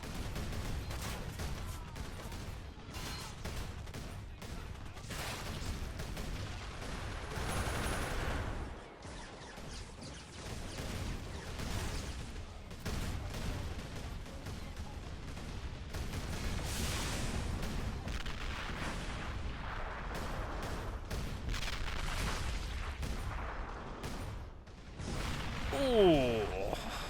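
Distant artillery booms and scattered gunfire rumble through a Warhammer 40k mod battle soundscape, with muffled blasts repeating at irregular intervals.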